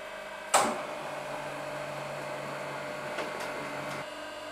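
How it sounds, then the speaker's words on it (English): A vacuum pump pulls air from a gold sputtering chamber at the Soyuz microphone factory, starting with a sharp clunk and then holding a steady broadband whir with a low hum, broken by a couple of faint clicks. "The top is brought down and a vacuum is used to suck the air out of that particular container."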